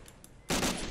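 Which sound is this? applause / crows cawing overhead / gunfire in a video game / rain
gunfire in a video game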